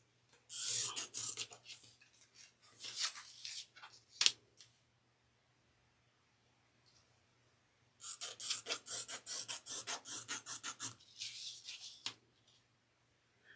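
Pen or marker scratching lines onto fabric while marking a handbag pattern, two bursts of close, rapid back-and-forth strokes separated by a quiet pause, no talking.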